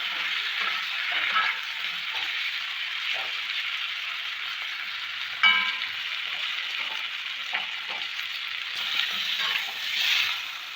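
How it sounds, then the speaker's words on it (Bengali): Eggplant pieces frying in oil with chili powder in a pan give a steady, close sizzle with a few soft clinks of stirring, and no voices. "লঙ্কার গুঁড়ো দিয়ে বেগুনগুলোকে ভেজে নেব"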